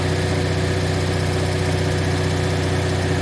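A generator engine treated with Marvel Mystery Oil after an oil change idles at a steady, loud drone with a constant low hum and even vibration throughout, with no other sounds.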